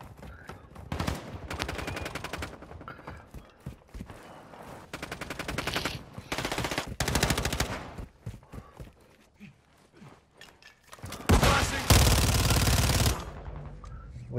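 SMG gunfire in a team deathmatch video game: rapid automatic bursts, several separated by short pauses, with a long, loud burst near the end.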